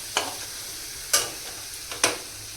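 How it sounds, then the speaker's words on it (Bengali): Fish and potatoes hiss in a hot frying pan, with three brief bursts of sizzle as pieces are stirred or turned, over a low steady background. "মাছ ভাজছিলাম আর এখানে ভাজছি আলু"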